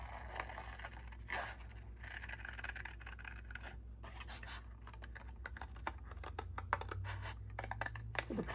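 A blade cuts around a sharp corner of a workpiece in short, scratchy strokes, a close, irregular scraping and ticking that rests on a steady low hum and contains no talk.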